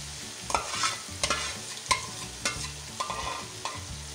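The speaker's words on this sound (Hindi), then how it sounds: "अब ये देखिए मैं इसमें भिंडी डालने लगी हूँ।" Okra being stirred into spiced masala frying in a pan, a steady sizzle broken by repeated sharp scraping clacks of a spoon against the pan, close and clear with no talking.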